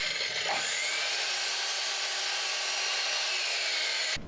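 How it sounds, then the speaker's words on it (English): A miter saw cuts through reclaimed wood, a loud, sustained whining buzz that spins up and holds steady for about four seconds, then cuts off. "time to bring out the mighty miter saw."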